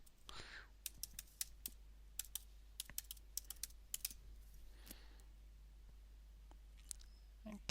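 A computer keyboard clatters with scattered individual keystrokes and short bursts as a password is typed, close and fairly quiet over a steady low hum, with faint breathy sounds between the keys.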